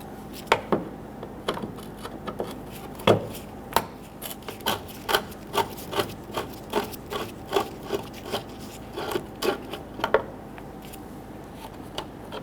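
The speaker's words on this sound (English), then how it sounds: "grab that Phillips head screwdriver, loosen and remove these screws" Phillips screwdriver loosening and removing the screws holding a tail light on a 2011-2015 Kia Sorento, a series of short, close scraping and ratcheting clicks in a steady rhythm, heard alone.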